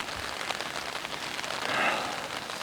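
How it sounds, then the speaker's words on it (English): Steady rain falling on a tent at dawn during a backpacking trip at Archers Fork, a dense continuous patter that swells slightly midway, with no voices. "Woke up to some rain."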